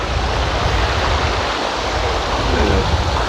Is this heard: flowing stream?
yes